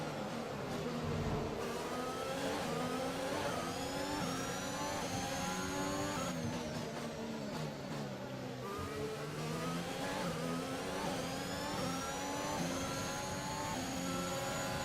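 F1 race cars launch from the start of the Azerbaijan Grand Prix at Baku in the F1 2021 video game, several engines howling and rising in pitch together, a continuous layered roar with repeated upshifts.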